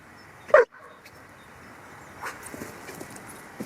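A dog gives a single sharp bark close by, followed by quiet rustling and faint whimpering sounds, with no talk.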